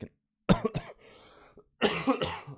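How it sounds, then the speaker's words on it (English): Several harsh, close coughs in two bursts, a quick cluster and then another fit after a brief quiet pause. "I'm going to have a few coughing fits during this."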